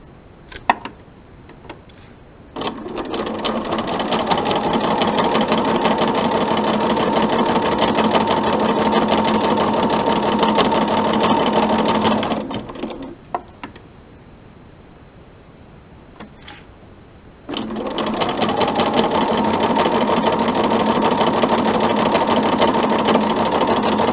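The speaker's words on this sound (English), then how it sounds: "I just sew right off the edge of that piece, and I bring in my next two that I have put together" Sewing machine stitching pieced quilt fabric for half-square triangles: two long bursts of loud, steady motor hum and rapid needle clatter, split by a pause of quieter handling sounds.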